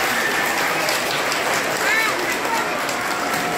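Audience applause at a gathering in the Hofbräuhaus Berlin, a steady wash of many hands clapping that carries evenly from start to finish, with voices mixed in.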